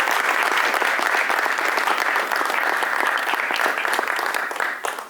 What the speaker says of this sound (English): If I can get another round of applause for them